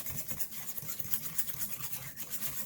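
Butter and sugar are creamed by hand with wire whisks for sugar cookies, making a faint, rapid, rhythmic scratching and rubbing against the bowl.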